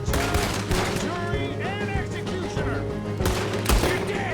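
Gunfire in the video game Red Dead Redemption 2: loud repeated gunshots crack at irregular intervals over a continuous game soundscape, with a burst of rapid shots in the middle and sharp reports near the end.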